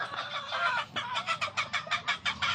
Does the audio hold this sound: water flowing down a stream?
no